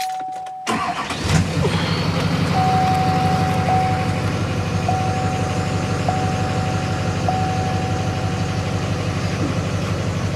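A 6.6 Duramax diesel pickup cranks and fires after a short silence, then settles into a loud, steady, close-up diesel idle that rumbles on without change, joined by a faint repeating electronic beep.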